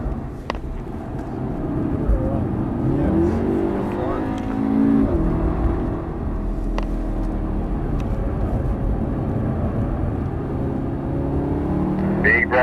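Car engine pulling hard during a fast hill run in a Volkswagen, a steady loud rumbling drone with rising revs and road and wind noise throughout, no clear voices over it.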